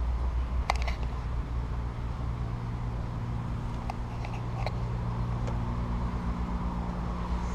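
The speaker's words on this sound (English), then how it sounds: "You can hear the cars whizzing by over top of" Steady traffic from cars passing on a road above a creek, a continuous low rumble and hiss heard from a distance with no talking.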